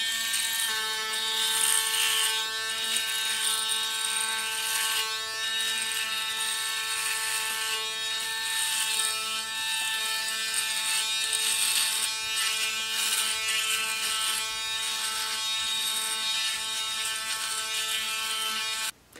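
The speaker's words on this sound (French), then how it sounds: "le rasoir n'a fait quand même qu'une bouchée de ma barbe de 2 jours" A Panasonic Arc 3 ES-LT67 electric shaver buzzes steadily and close up as it cuts through a two-day beard, its high whirring drone holding nearly unbroken throughout.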